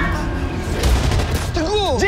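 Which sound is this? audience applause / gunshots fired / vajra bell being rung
gunshots fired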